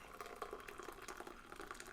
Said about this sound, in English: I may have poured a little too much water